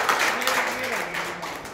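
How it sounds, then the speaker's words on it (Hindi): Audience clapping at a talk about neem products: a dense, fairly loud patter of applause from a crowd, with a voice speaking beneath it. "ताली बजाओ जी यार।"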